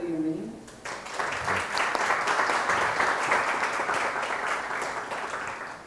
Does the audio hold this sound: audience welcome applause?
yes